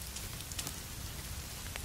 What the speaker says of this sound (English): we're gonna get some rain